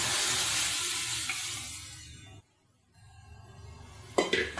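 Boiled pea dal tips into very hot oil tempering with a loud, hissing sizzle that fades to near silence midway, then the frying hiss returns with a sharp clatter near the end.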